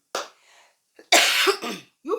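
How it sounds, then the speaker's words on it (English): A person with flu coughs in two separate bursts, a short cough near the start and a longer, harsher coughing fit in the middle, followed by a throat-clearing sound, close and fairly loud with no speech. "I'm sorry for the coughs."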